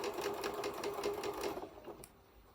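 A sewing machine stitches curved quilt pieces together in improvisational piecing, running in a steady, rapid rhythmic burst up close before stopping, followed by a faint click.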